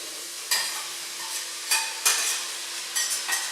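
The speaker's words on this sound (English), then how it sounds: "I'm now then adding my mince" Beef mince and onions fry together in a pan for spaghetti bolognese, giving a steady close sizzle broken by several louder scraping stirs spaced about a second apart.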